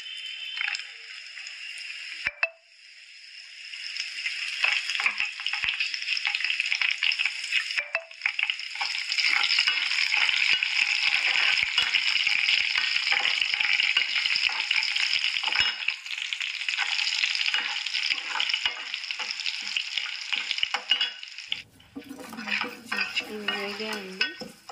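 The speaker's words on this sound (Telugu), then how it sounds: "ఇలా గోల్డెన్ బ్రౌన్ కలర్లోకి వచ్చేదాకా వేయించుకోవాలండి." Dried red chillies and curry leaves crackling in hot oil in a pan as a tempering for a simple Telugu dal dish, a loud sustained sizzle with stirring scrapes and a clink of utensils near the end.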